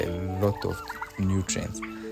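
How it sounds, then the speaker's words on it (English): Turkeys gobble in several loud, rapid bursts close by on a turkey farm, with short pauses between the calls. "essential minerals and vitamins that are very good for our turkeys"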